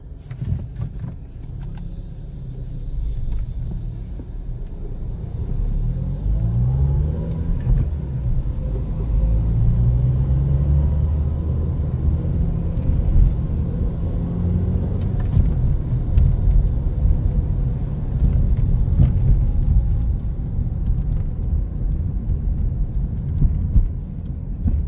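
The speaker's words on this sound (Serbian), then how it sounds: "Koliko automobila, koliko naroda." Busy car traffic on a crowded Zagreb city street makes a loud, continuous low rumble of passing engines that swells and fades without a break for the whole stretch.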